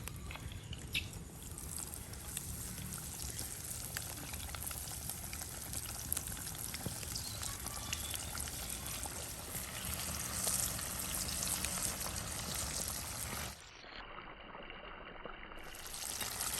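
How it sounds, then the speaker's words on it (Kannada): Mackerel coated in rava frying in well-heated oil: a soft, steady crackling sizzle runs for about thirteen seconds, then cuts off abruptly and goes near silent for the rest. "ನೋಡಿ, ಎಣ್ಣೆ ಚೆನ್ನಾಗಿ ಕಾದಿದೆ, ಮೀನನ್ನು ಫ್ರೈ ಮಾಡುವ."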